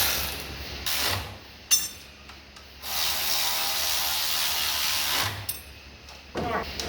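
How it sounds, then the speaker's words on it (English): A ratchet tightens the bottom bracket bolts, giving bursts of hissing mechanical noise and a short run of quick clicks near the end, fairly close, with no talk. "Let me tighten up in the bottom bracket bolts"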